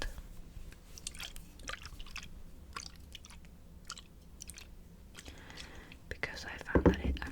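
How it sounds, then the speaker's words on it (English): A makeup sponge is wetted with Urban Decay All Nighter setting spray or Rhode Beauty Glazing Mist, giving short, soft, close misting bursts among quiet whispering and faint wet handling noises. "to wet my sponge, I use the Urban Decay All Nighter or the Rhode Beauty Glazing Mist"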